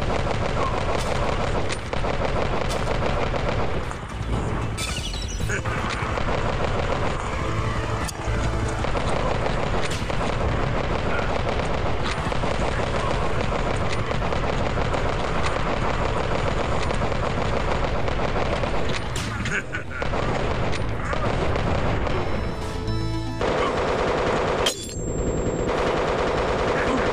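Enemy gunfire in the VR shooter Operation Wolf Returns rattles nonstop in dense automatic bursts mixed with heavier blasts, loud and close, filling the whole stretch with barely a pause.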